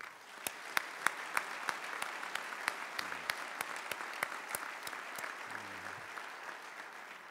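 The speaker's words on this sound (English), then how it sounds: "Please give this part of our team a round of applause" Faint, steady applause fills a hall at Huntsville's State of the City address, with crisp individual claps standing out at a regular beat over the wider crowd and brief low murmurs beneath.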